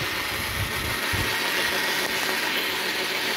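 A 12-volt DC motor runs on a speed control board with a fan. It keeps a loud, steady whirring hum that rises slightly in pitch as the speed is raised.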